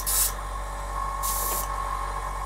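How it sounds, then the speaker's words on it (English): An air compressor for an airbrush starts up, giving a low steady mechanical hum with two short bursts of hissing air spaced about a second apart. "So I'm going to start my compressor up."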